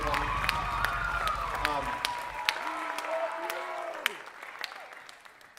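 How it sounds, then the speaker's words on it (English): A concert audience claps in a steady broad wash, moderately loud and continuous, while a voice sings or speaks over it and then fades as the applause carries on. "Can we give one more round of applause to all the folks working behind the scenes"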